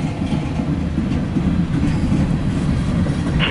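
A CSX Q409-24 mixed freight train rolls past with a steady, loud low rumble of wagons and wheel noise, continuous throughout.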